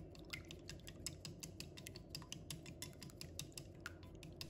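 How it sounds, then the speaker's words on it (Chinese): An egg being beaten in a bowl, rapid quick clicking taps of utensil against the bowl in a steady rhythm, close and faint, without talk. "把鸡蛋搅拌均匀。"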